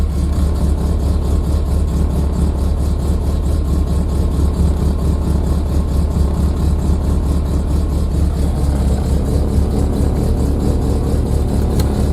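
An MGB GT sports car idles while warming up, its engine giving a steady, close low rumble with an even pulsing beat and no change in pace.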